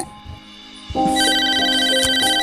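A telephone ringtone starts abruptly after about a second of quiet room tone, then plays steady, loud electronic ringing tones without pause until the end.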